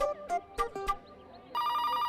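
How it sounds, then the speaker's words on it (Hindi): A telephone rings in a sitcom scene: a steady electronic ringtone starts partway through and holds loud and close, after a few short tonal sound effects. "अबे अभी किसका फोन बज रहा है?"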